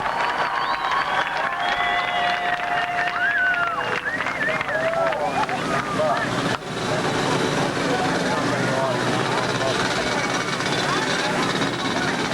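A large Pittsburgh crowd at a 1997 ATV jump show applauds and cheers, a dense, steady wash of clapping and shouting that fills the whole stretch, with voices in the mix.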